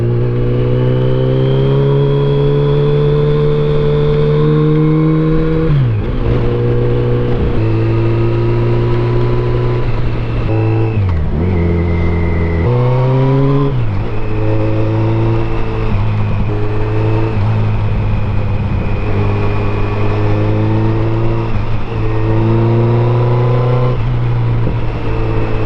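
A 2007 Yamaha FJR1300 touring motorcycle engine drones steadily at low road speed, a loud continuous hum with shifting pitch as the rider eases off and rolls back on the throttle a few times.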